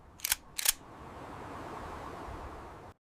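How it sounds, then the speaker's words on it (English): A OnePlus 15 phone camera fires its loud leaf shutter twice in quick succession, two sharp close clicks, followed by quiet room hiss. "They still have the incredibly loud leaf shutter sound"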